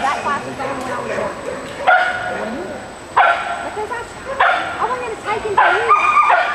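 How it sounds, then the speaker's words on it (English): A dog barks in short, sharp bursts several times, close and loud, with yips between, while people talk over it. "She just needs you barking in her ear."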